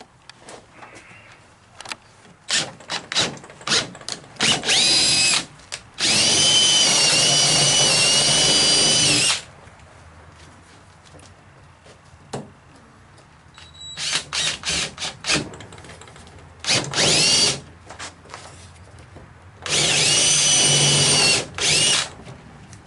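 A power drill with a 1/2-inch bit bores through wooden porch swing slats in long, loud steady bursts, separated by short clicks, taps and quiet handling between runs.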